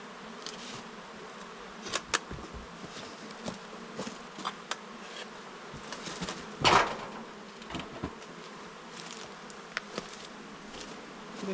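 Honeybees buzz steadily around an open beehive while a third super is added late in the year, a soft continuous drone with occasional louder passes of single bees close by and a few faint knocks of frames.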